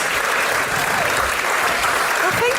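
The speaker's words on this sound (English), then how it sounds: "Can I get a round of applause for Clancy and Errol" A live audience at a Sydney book launch claps for two guests, a dense, loud burst of applause filling the room throughout.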